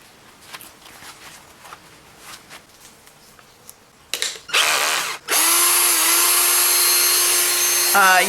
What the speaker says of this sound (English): This is a Scotch-Brite paint and rust stripper for a large area.